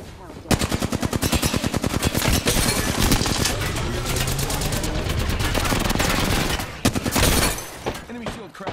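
Gunfire in the video game Apex Legends rattles in rapid, loud automatic bursts with a steady rhythm for several seconds, briefly pausing and resuming, with game voice callouts mixed in.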